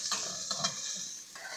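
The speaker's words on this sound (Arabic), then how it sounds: "نسيبه بقى يغلي كويس قوي عشان ايه" Garlic, oil and vinegar bubbling and sizzling in a pan in a home kitchen, a steady hiss with a few soft stirring clicks, fairly quiet and close, no voices.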